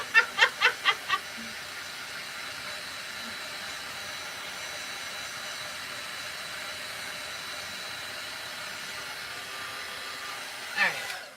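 Hair dryer blowing steadily to dry paint on a tumbler, a constant whooshing drone lasting several seconds, opened by a few quick clicks and ending with a brief bump.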